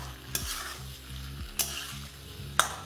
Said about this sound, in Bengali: এবার ফ্লেমটাকে লো রেখে এটাকে একবার ভালো করে মিশিয়ে নিন।